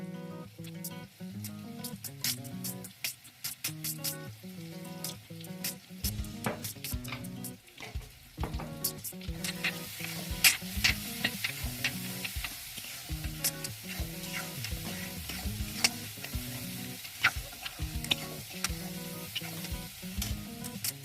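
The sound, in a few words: masala frying and being stirred in a pan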